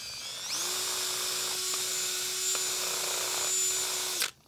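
An electric drill fitted with a dull bit grinds against concrete, spinning up into a sustained high whine for about four seconds with faint scraping ticks, then winding down abruptly; no speech over it.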